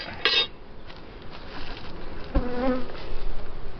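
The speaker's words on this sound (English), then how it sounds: "One angry guard bee." An angry guard honeybee buzzes around a thriving beehive during a hive check, a close, wavering insect drone that swells and fades as it circles near, with faint clinks in the background.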